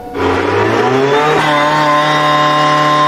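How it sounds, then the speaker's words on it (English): An Audi RS Q e-tron Dakar rally car's petrol engine fires up and settles into a loud, steady, buzzy idle with a strong harmonic drone, close by and with no talk over it. "Can you ignite the petrol engine and make it run so we get some sound from that vehicle?"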